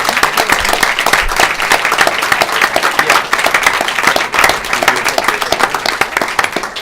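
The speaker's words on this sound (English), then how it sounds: "let's give you a big round of applause" Sustained, dense applause from a crowd at a school board of education meeting, many hands clapping loudly and steadily for several seconds.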